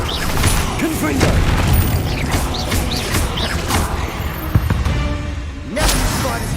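A Confringo fire spell from the Hogwarts Legacy game bursting in loud, booming explosions with crackling debris and whooshes in a dense, continuous battle mix during spider combat.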